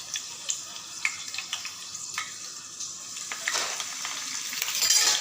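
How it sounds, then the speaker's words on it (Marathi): Coriander and dried soda sizzle softly in hot oil for a Marathi dish, with light clinks and scrapes of stirring in the pan that build toward a louder sizzle. "हां, चांगले परतून घेऊया।"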